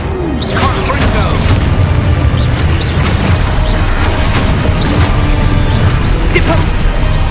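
Confringo fire spell explosions during a Hogwarts Legacy battle, loud heavy booms and crashing impacts layered into a dense, continuous rumble with repeated sharp bursts.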